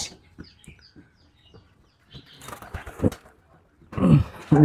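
Pigeons in a coop give soft, scattered coos and rustles, with louder bursts of bird calls near the end and a few faint thumps.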